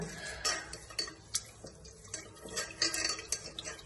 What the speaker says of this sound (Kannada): ನೀಟಾಗಿ ಈ ತರ 2-3 ಸಲ ವಾಶ್ ಮಾಡ್ಕೋಬೇಕು ಅಕ್ಕಿನ ಹಾಗೂ ಹೆಸರು ಬೇಳೆನ.